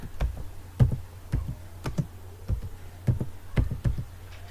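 Someone types on a computer keyboard at close range, with separate, fairly loud key clicks spaced at an irregular pace and no talk.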